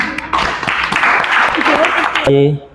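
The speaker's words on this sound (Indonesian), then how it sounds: "Oke, jelas, tepuk tangan." Students clapping in a classroom at a junior high school, a burst of close, dense applause lasting a couple of seconds with voices mixed in, ending in a brief tonal sound as it cuts off.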